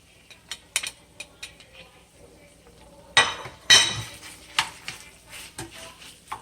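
A spoon stirs browned ground beef and chopped sausage in a pan: soft scraping with sharp clinks against the metal, a louder burst in the middle, and faint sizzling underneath.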